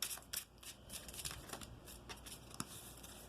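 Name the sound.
shuffling tarot cards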